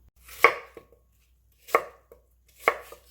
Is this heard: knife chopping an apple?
yes